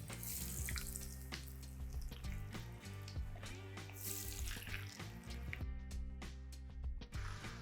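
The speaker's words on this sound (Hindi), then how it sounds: "और अब ये फ्रेंच फ्राइज जाएंगे मीडियम हॉट तेल में।" French fries drop into medium-hot oil and fry with a steady, dense bubbling sizzle that rushes like running water, continuous and close throughout.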